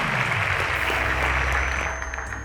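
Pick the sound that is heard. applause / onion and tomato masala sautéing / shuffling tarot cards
applause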